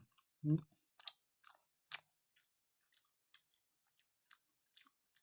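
Thai khanom man wrapped in banana leaf is chewed close to the microphone, with soft, wet, irregular bites and squishes spaced through an otherwise quiet stretch.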